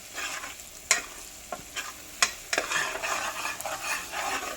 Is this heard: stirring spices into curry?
yes